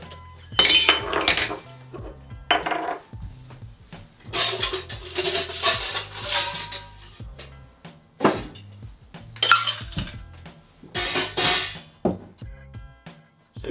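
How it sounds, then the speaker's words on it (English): Ice cubes are dropped into a tin cocktail shaker, close bright clinks and rattles in several separate bursts with quiet pauses between them, with no talking. "get your tin shaker and put in 4 to 5 ice cubes."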